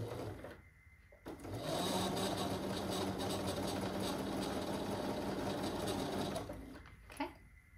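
A sewing machine stitches quilt fabric in one steady, continuous run of about six seconds, starting after a short pause and stopping near the end, close and loud with no talking.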